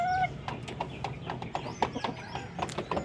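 Laying hens on a rooftop farm cluck in short repeated bursts, with a few sharper calls mixed in, close and fairly loud against a quiet background.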